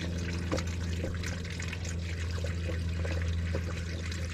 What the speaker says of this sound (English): I've got my Toyota coolant, and I'm just going to start filling the radiator up